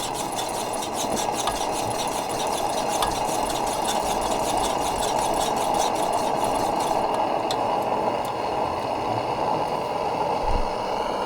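A US military Coleman pressure lantern running, giving off a steady, loud hissing roar with a faint rapid mechanical flutter, continuous and close for the whole stretch.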